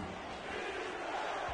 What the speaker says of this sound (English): Crowd on their feet here in Tulsa